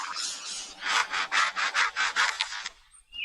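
A lyrebird mimics a chainsaw with a run of about eight rhythmic, rasping strokes, loud and close, like saw blades biting wood, before cutting off into quiet.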